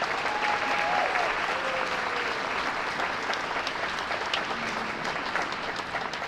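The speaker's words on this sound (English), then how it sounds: "So let's have a round of applause for all three of those groups." Steady applause from a crowd at a hotel opening ceremony at Disneyland Resort, a dense continuous patter of many hands that holds evenly at moderate level, with a few faint whoops over it.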